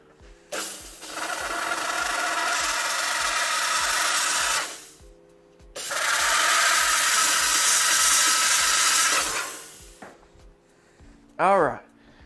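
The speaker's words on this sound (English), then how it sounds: "I'm going to go steam this real quick, so it's going to get loud." A steam cleaner blasts an orthodontic retainer in a dental lab with two loud, sustained hissing bursts of several seconds each, separated by a short pause, followed by a brief voice.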